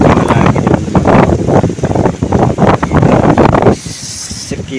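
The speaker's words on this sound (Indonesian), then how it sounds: "Dengan kondisi anginnya sangat kencang, semoga menghasilkan dapat ikan." Strong wind buffets the microphone while fishing, with loud roaring gusts and rumble near water, easing slightly toward the end.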